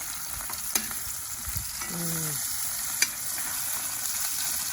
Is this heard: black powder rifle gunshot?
no